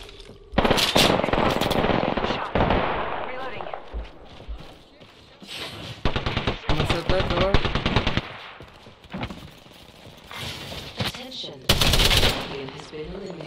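Rapid automatic weapon bursts fire in an Apex Legends match, loud repeated volleys with pauses between them, while a player shouts and talks over the shooting.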